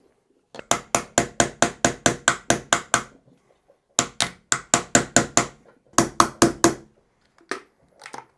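Repeated hammer blows break apart a resin bowling ball mold, landing in fast, sharp bursts of about ten strikes, a pause, then another run, a shorter burst of four, and a couple of scattered final knocks, close and loud.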